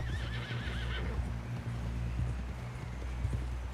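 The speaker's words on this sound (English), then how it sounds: "Someone help John down off this horse" A horse in the video game Red Dead Redemption 2 gives a loud whinny with a wavering pitch near the start, over a steady low rumble and continuous clip-clopping hooves that keep going to the end.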